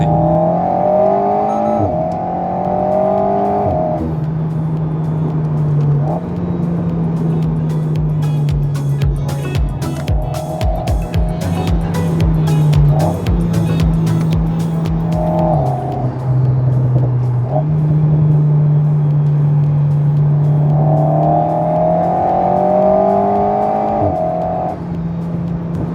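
An Alpine A110 sports car engine revs loud and close, rising and dropping through repeated gear changes with a rapid crackling burst in the middle, and no one talking.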